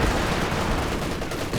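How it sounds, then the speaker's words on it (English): Machine gun fire in the video game Company of Heroes 2 during a 4v4 match forms a dense, continuous, loud roar of rapid shots filling the whole moment. "But the machine gun's focusing on the wrong squad."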